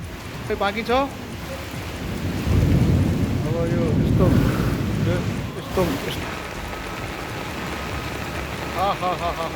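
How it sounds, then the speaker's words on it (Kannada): Heavy monsoon rain with thunder over Mahadevapura, Bengaluru: a steady wash of downpour swells into a deep rolling rumble midway, with faint voices and brief chirps in the background. "ಬೆಂಗಳೂರಿನ ಮಹದೇವಪುರದಲ್ಲಿಯೂ ಭಾರೀ ಮಳೆಯಾಗಿದೆ."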